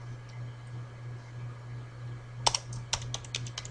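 Keystrokes on a computer keyboard as a database query is typed, a quick irregular burst of clicks starting after a quiet stretch with a steady low hum underneath, fairly close and moderately loud.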